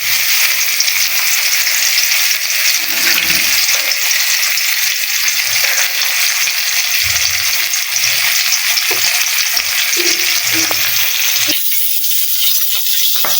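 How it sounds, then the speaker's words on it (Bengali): Fish fries in hot oil with a loud, continuous, close crackling sizzle that runs throughout, with occasional soft knocks of a utensil against the pan. "মাছটা আমি এখন ভালোভাবে ভেজে দেব।"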